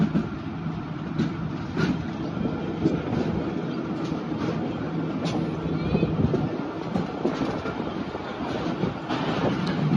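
A train rolls along a railway track ahead of Moradabad station, with a loud, steady rumble and clatter of wagons close by that lasts throughout.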